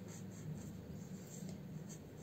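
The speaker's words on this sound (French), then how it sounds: "c'est que je vais tout simplement écrire" Small felt-tip marker writing on a paper or card favor box, a soft, steady scratchy rubbing that runs continuously and faintly close by, with no speech.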